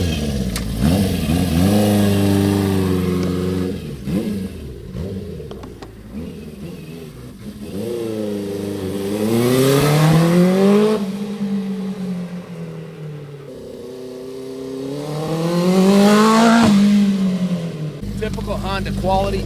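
A restored 1973 Honda CB350F Super Sport four-cylinder motorcycle engine is revved repeatedly, its pitch sweeping up and down in several rising and falling blips over a steady idle, close and loud, with a voice speaking now and then.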